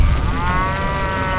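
A cartoon cow gives one long, loud moo filling the whole moment, its steady harmonic tone holding without a break and no voices over it, in a children's farm-animal rescue scene with a spreading fire.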